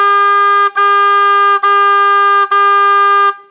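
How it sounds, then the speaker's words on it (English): An oboe plays four smooth, sustained tenuto quarter notes on G in the staff, each tone held full and even with only tiny breaks between them, loud and close. "we're going to play each note as 4 smooth quarter notes, 4 tenuto quarter notes."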